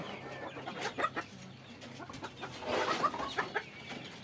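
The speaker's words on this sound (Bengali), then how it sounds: "ওই যে মানে চিবিতে গেছে দুটো মুরগি ডিম পাড়ার জন্য" Hens on a small home chicken farm cluck softly in short, uneven bursts, heard faintly at a moderate distance against quiet surroundings.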